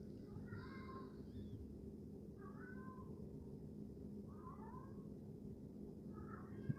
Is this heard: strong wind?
no